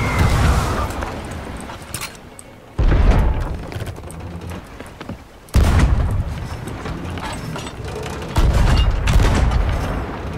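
Cannons firing during a long-range ship battle in the video game Sea of Thieves, several heavy booms at intervals each followed by a sustained rumbling tail, loud and close.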